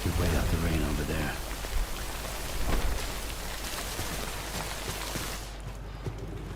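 Steady rain pouring down in Death Stranding, a dense, even hiss running throughout, with a voice speaking over it at the start before the downpour continues alone.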